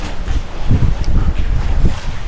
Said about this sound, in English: This wind out here today is freaking like Lake Erie.